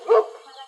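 A dog lets out a single short, sharp bark, close and fairly loud, which fades quickly into quiet.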